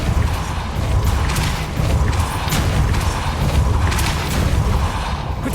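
A Depulso spell cast in Hogwarts Legacy, a series of heavy booming thumps and crashing impacts over dense game noise, loud and continuous with several strong hits.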